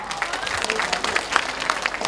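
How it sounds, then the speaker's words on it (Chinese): An audience at a school's 50th anniversary opening ceremony claps in a dense, even patter of applause lasting a couple of seconds, with a faint voice under it. "我们应该给他们掌声，好不好？"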